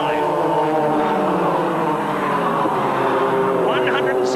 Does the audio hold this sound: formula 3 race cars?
yes